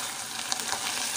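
Aloe vera halwa roasting in a pan gives off a brief, steady hiss of close sizzling with faint soft scraping.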